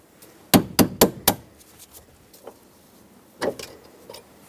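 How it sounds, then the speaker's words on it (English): A small punch struck with a hammer taps a pin out of a 1999-2007 Ford F-350 shifter lever: four quick, sharp metallic blows in a row, then a few lighter scattered taps and a final pair of strikes, close and distinct. "Take a small punch and a hammer and tap this pin out."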